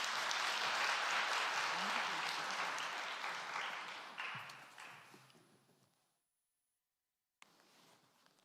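Audience applause at a church winter conference fills the room loudly, then fades over several seconds into near silence before a faint resumption of room sound.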